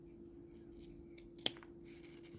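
Scissors trimming fabric for a small doll bag: a quiet room with a low steady hum and a few faint soft snips, capped by one sharp, distinct cut near the middle.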